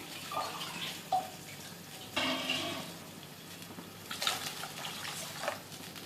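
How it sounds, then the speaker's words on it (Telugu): Water poured into wheat rava for upma, heard as faint splashing and trickling with a few short louder gushes, close by and with no talking. "ఇప్పుడు వాటర్ యాడ్ చేసుకుంటున్నాం"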